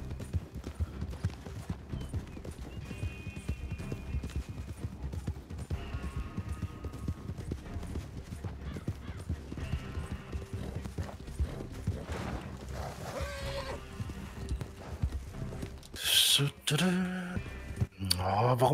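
Several horses in Red Dead Redemption 2 clip-clop along in a quick, irregular hoof rhythm, fairly close, with a louder burst of movement near the end.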